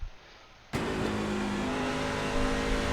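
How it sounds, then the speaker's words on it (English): A racing truck engine in iRacing, a C-Fixed truck at World Wide Technology Raceway Gateway, revs up sharply after a brief quiet moment, then holds a loud, steady drone with a quick rev-matching throttle blip near the end during a clutchless downshift. "downshifting without using the clutch, just rev match, bump the throttle so you can hear it there"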